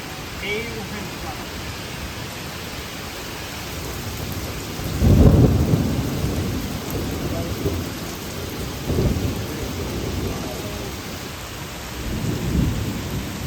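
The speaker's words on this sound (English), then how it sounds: "Sounds like there's a storm a-brewing" A thunderstorm with steady rain, heard from inside a cave on an Appalachian Trail thru-hike, with rumbles of thunder swelling around five, nine and twelve seconds over a constant wash of rainfall.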